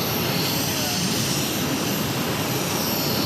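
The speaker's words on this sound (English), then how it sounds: "Runway 22 right, clear for takeoff." Airliner taking off from runway 22 right at Boston Logan Airport, with a steady, loud jet engine roar and a broad rushing noise that hold level throughout.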